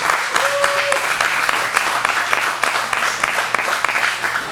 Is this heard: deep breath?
no